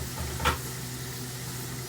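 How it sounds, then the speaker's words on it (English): Steady hiss and crackle of boiling water sizzling in a hot oiled pan, with one brief louder pop near the start, close and continuous. "especially boiling water, into a hot pan with oil"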